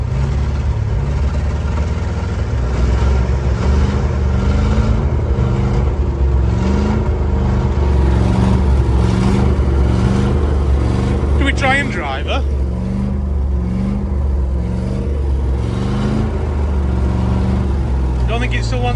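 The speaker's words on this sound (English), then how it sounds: "Easy start is away. And she's pulling some petrol." Abandoned armoured Land Rover engine running steadily after starting, a loud, rough petrol motor with a pulsing, uneven rhythm as if struggling to idle, with a voice talking over it.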